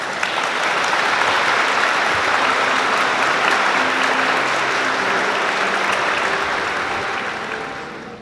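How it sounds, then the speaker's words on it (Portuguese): A crowd at a wedding ceremony applauds loudly and continuously for several seconds, dense clapping that fades slightly at the end. "Eu convido a todos a ficar em pé, dar uma forte salva de palmas"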